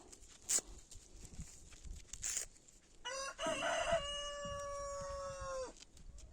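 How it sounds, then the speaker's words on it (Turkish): A rooster gives one long, loud crow nearby, rising then holding steady, after a couple of brief sharp sounds. "Şimdi horoz da aynı şekilde."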